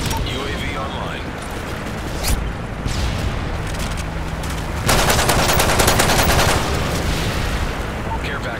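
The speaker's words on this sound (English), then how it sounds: "Friendly strafe run incoming." A strafe run in the Modern Warfare 3 video game brings heavy, dense machine-gun fire with booming impacts. The sound is sustained and loud and gets stronger in the second half, while game voices talk over it.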